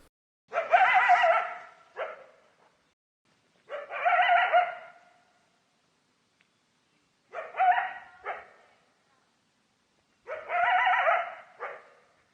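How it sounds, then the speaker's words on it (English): A coyote barking and yipping in four separate bursts of a second or two each, with silent gaps between them, sounding moderately near and isolated in a quiet outdoor setting, with no voices present. "This is the sound of the coyote stalking us after at least 5 minutes."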